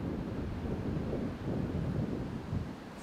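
Steady wind buffeting the microphone on a disc golf course, a continuous low rumbling roar that swells and eases slightly with no voices heard.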